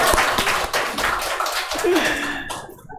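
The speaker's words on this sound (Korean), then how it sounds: "박수." Church congregation clapping during an ordination service, a short burst of scattered claps under talk that thins out and fades to near silence within a few seconds.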